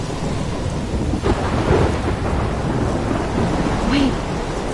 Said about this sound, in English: What's happening? I'm trapped in a storm?